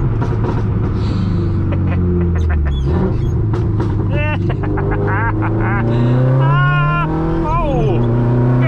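A Subaru STI with a straight-piped exhaust roars loudly through rising gear pulls, its engine note climbing then dropping at each shift, while an excited occupant talks and whoops over it from inside the car.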